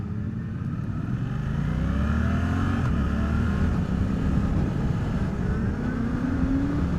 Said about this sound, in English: you can just bang up through the gears, you know, with that quick shifter